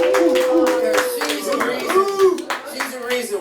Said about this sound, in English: Let's give a clap for Miss D.